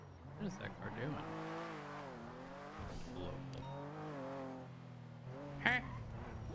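Revving car engine in the NoPixel game, rising and falling in pitch with a squealing, quacking tone, heard steadily at moderate volume with a brief louder burst near the end.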